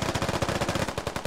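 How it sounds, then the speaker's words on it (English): Rapid bursts of automatic gunfire from Russian soldiers in the video game SquadOps, a steady stuttering rattle of close shots that carries on for over a second with no pauses. "Was that a Russian shooting close, or was that you guys shooting?"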